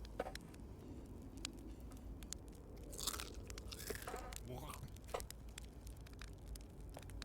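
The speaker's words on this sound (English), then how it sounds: "I hate chewing sounds." Quiet, wet crunching and chewing from a campfire marshmallow-roasting scene in Outer Wilds, soft and close over a steady low background hum.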